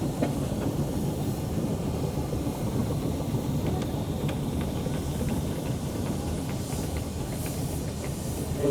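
Steam engines roll past at the Stoke Row Steam Rally 2024 with a steady low rumble and hiss, light mechanical ticks and clicks scattered throughout, continuous and moderately distant.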